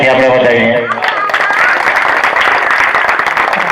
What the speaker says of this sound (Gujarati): પહેલા તો સોનકર સાહેબને એક જોરદાર તાળીઓથી આપણે વધાવીએ